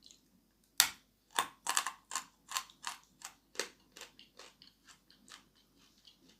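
Close, crisp crunching as someone bites into and chews Ural chalk clay, a run of about a dozen sharp, brittle crunches that start loud and grow gradually softer, with no talking.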